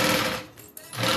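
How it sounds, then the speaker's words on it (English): Sewing machine stitching a zipper pocket panel onto a zipper for a bag, running steadily and loud, easing off briefly in the middle before resuming at full speed. "I'm sewing the zipper pocket panel"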